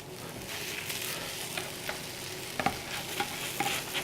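French toast sizzling in a hot pan just after being flipped, a close, steady hiss with a few soft taps and clicks near the end.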